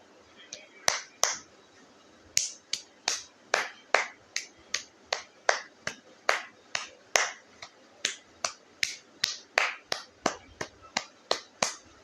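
Sharp, crisp hand claps repeat in a steady rhythm of roughly two per second, heard close and alone as someone claps to locate a phone.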